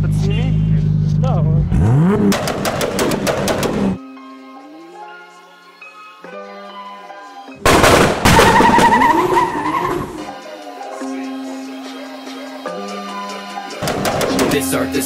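Loud car engine revving hard with tyre skid bursts, cutting off into quieter stretches before another roaring rev, with voices talking in the background.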